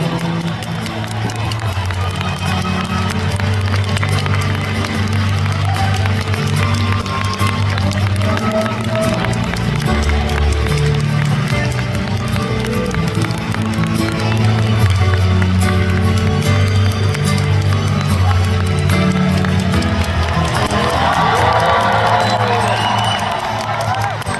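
A concert audience at a 2025 live show encore cheers and applauds the band, producing a loud, dense, continuous crowd roar that stays steady throughout.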